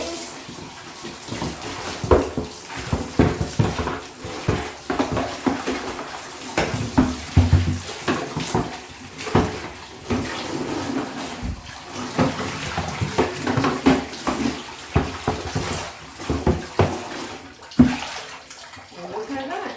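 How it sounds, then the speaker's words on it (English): Running water rinses out a plastic cleaning bucket, splashing and gurgling continuously with clattering knocks of the bucket being handled, fairly close and steady throughout. "And now we're just going to wash this off."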